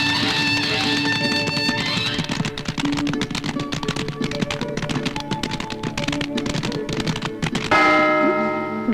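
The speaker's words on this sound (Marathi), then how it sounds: "घंटा वाजला" A temple-style bell rings repeatedly in a fast, steady clanging rhythm, loud and close, with a brighter sustained ring swelling near the end.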